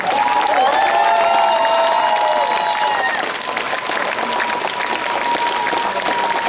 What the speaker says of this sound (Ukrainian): їм оплески.